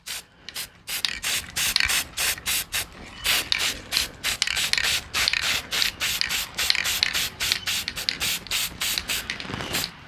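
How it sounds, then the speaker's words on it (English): Quick, light bursts of spray paint over a stencil make a rapid series of short, close hissing puffs in an uneven rhythm, repeated steadily throughout. "Just a little light spray is all we got to do."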